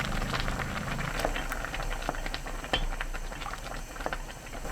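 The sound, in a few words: nurungji porridge boiling in a pot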